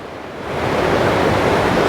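Fast-flowing, clear blue river water along the road to Kalam in Swat rushes in a loud, steady broadband roar that swells slightly at the start, with no voices.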